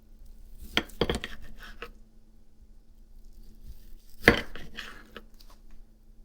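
A knife cutting through cooked beef on a board, with a few sharp clicks and taps near the start and again midway over a faint background hum, close and sparse, no talking.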